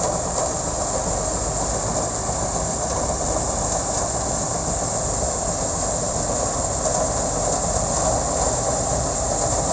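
A TRM M6s sugarcane harvester chops cane into clean billets in the field, giving a steady, loud, continuous mechanical roar with a busy rattling churn that never lets up.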